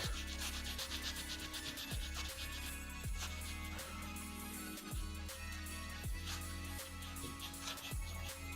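A Scotch-Brite pad soaked in kerosene scrubs a 3D printer part in steady back-and-forth strokes about once a second, a quiet, close rasping rub with no talking.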